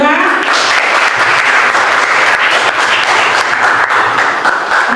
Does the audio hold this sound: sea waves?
no